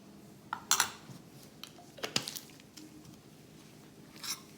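A spoon stirs cinnamon oil and peppermint oil together in a small container, producing a few soft clinks and scrapes in short bursts separated by quiet pauses.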